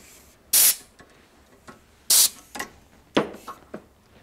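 Compressed air blows out freshly cut threads on a brake caliper bracket for a V8 Celica in a shop, two loud sharp blasts followed by a few shorter hissing spurts.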